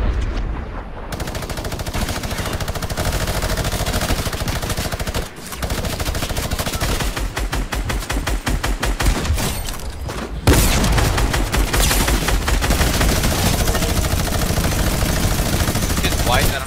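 Rapid automatic gunfire in a Fortnite Chapter 2 duo arena match on PS4 runs almost without pause, with loud, dense bursts and a louder stretch near the end, and a player talks faintly over it.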